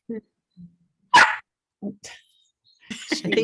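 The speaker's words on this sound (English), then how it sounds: "I think the dogs are asking for some attention." Dogs bark in short, separate bursts, a few sharp yips and barks spaced irregularly and fairly close, with a voice speaking briefly near the end.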